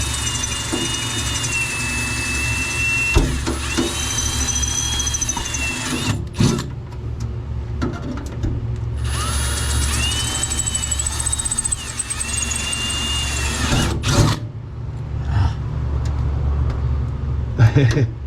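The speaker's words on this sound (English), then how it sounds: "he's drilling the other holes now" A power drill whines in bursts with rising and falling pitch, drilling holes under a 2009 Toyota Prius near the exhaust, over a running engine's steady hum, stopping and starting several times up close.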